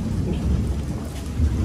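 Rain drizzles in a village, making a continuous soft hiss with a low, rumbling wash underneath.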